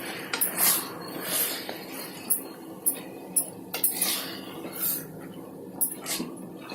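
Metal utensil clinks and scrapes against a pan while Chettinad chicken masala is stirred, giving close, irregular bright clatters over a quiet background.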